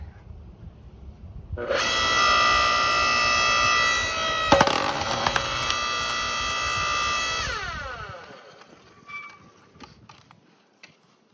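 A Wen electric hydraulic wood splitter's motor starts and runs with a loud, steady mechanical whine for several seconds, then winds down to quiet with a few faint clicks and knocks at the end; no talking.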